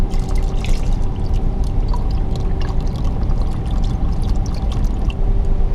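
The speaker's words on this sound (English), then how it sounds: "8 cups low sodium vegetable broth." Low sodium vegetable broth poured from a carton into a pot, a steady close liquid splash and glug running for several seconds with no talk.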